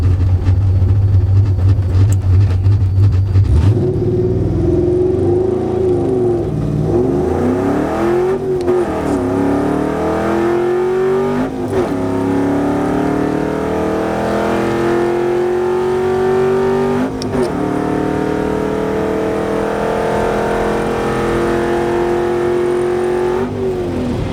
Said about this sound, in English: First gear pulls, man.